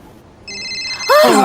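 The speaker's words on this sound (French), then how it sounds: "C'est mon téléphone." A mobile phone rings with a bright electronic tone that starts softly, then swells into a louder warbling melody, while a voice speaks faintly underneath.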